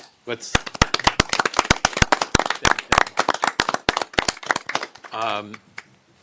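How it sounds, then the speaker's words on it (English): Applause from family and friends in the audience at a city mayor and council meeting: sharp, separate claps from a small group, fairly close, with a voice speaking briefly near the end. "I want to give a round of applause to family and friends who are here."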